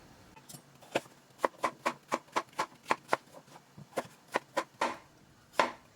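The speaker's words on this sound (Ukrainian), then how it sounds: "Нарізаємо довільно, як я нарізала овочі до цього." Knife chopping zucchini and other vegetables on a cutting board, a steady run of about a dozen crisp close chops with a few short pauses, no talking.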